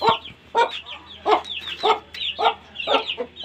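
Aseel hens clucking close by, a steady series of short rhythmic clucks repeating about every half second, with no talking.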